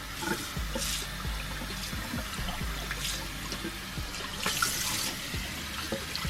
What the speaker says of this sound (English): You see where the water is running?